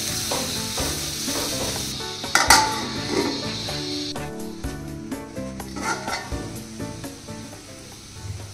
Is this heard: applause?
no